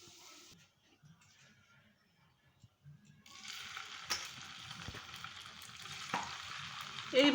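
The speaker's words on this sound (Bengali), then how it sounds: "এইভাবে আমি সমস্ত পিঠেগুলো ভেজে নেব।" Pithas made from flattened rice and date jaggery frying in a pan over a low gas flame. After a quiet start the sizzle swells into a steady hiss, with a few clinks and scrapes.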